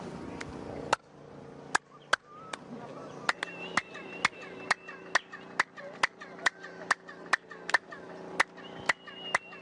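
Sharp hand claps repeat at a steady pace, each followed by a springy, twangy echo that rings and bounces briefly before the next clap.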